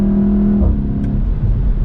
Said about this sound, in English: all of these sounds that the car is making right now, in terms of the engine note